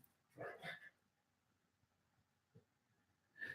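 A dog barks indoors while hunting for her lost ball, two quick barks close together followed by a lone faint yip and another sharp bark at the end, over quiet room tone.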